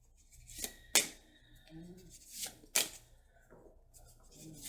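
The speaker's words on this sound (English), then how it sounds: "Shuffle back into the deck." Cards are shuffled in a few sharp, riffling bursts separated by brief pauses, close and fairly quiet.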